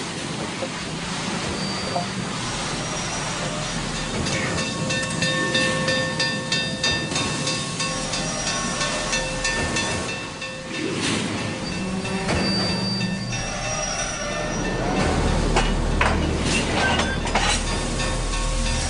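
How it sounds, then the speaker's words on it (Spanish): The Union Pacific Challenger steam locomotive runs past with sustained loud rumble, hissing steam and rail-wheel clatter, with occasional squeals, filling nearly nineteen seconds without talk. "Es la locomotora a vapor más grande del mundo y aún es operativa."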